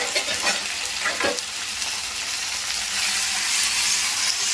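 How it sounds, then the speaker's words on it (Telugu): Gongura chicken with green chillies frying and being stirred in a pan, a steady close sizzle with a few scraping stirs near the start, no talking. "బాగా కలుపుతూనే ఉండండి, లేదంటే అడుగంటేస్తుంది"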